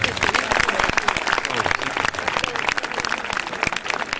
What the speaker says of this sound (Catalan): Un fort aplaudiment, Capità Amigo.